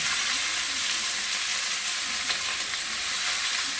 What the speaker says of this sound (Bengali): তেল গরম হয়ে গেছে, আমি সাদা তেলেই করছি। গাজরগুলো দিয়ে দিলাম, বাঁধাকপিটাও দিয়ে দিলাম